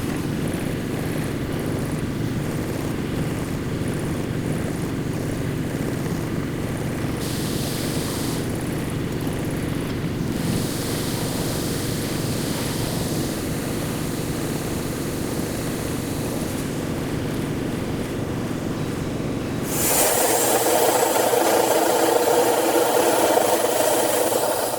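A hydraulic forge press with squaring dies welding a Damascus steel billet heated to 2300 degrees for a dagger blade, a loud continuous machine drone with hissing, shifting to a harsher roar near the end.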